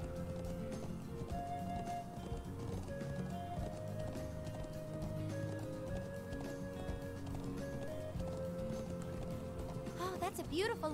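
Horse hooves clip-clop at a gallop in the video game Trails of Cold Steel, a steady rhythmic patter over game music and chimes, with a person talking over it.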